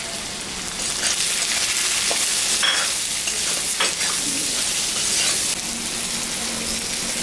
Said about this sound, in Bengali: তরকারিটা ভাজা ভাজা হয়ে গেছে